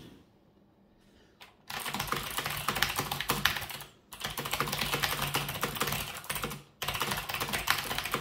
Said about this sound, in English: my Zeos NMB with clicky black Space Invaders